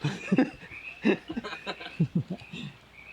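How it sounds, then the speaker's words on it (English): Frogs croak in a forest at night, a run of short, close, throaty calls in uneven clusters over a faint background hiss. "I was trying to shut the frogs up."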